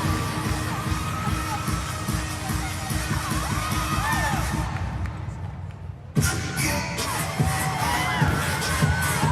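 Fans fill an arena at a college gymnastics floor routine, cheering and shouting in a dense, loud, continuous roar with high excited voices. The noise swells again after a brief dip partway through.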